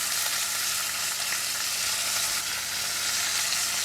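Chopped garlic sizzles steadily in hot oil inside a clay pot while braising pork with leeks, a dense, even frying hiss that holds close and constant throughout with no voices.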